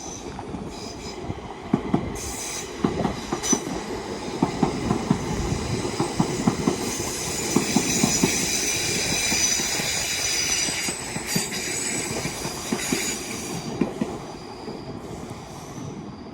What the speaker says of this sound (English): Train now zooming past is a double 350 going to Liverpool Lime Street.